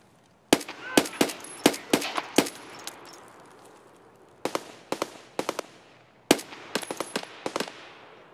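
Sniper rifle shots in Escape from Tarkov on the Shoreline map, sharp cracks in three clustered volleys of several shots each, loud with ringing decays, no talk.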